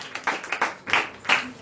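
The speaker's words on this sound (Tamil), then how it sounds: "கைதட்டுங்க பார்க்கலாம்." A church congregation claps in quick bursts, several short rounds of hand claps with brief gaps between them, fairly faint.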